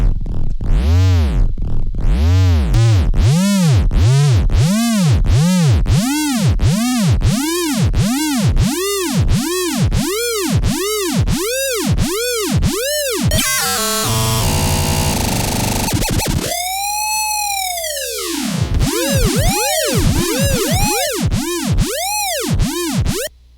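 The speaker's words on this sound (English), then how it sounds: "Here's the sound from the synth" A slowed-down patch from a Purr Data synth plays a long series of repeating swooping tones that rise and fall. A noisy, buzzy stretch comes in the middle, then one big sweep and a return to the pulses. No voices.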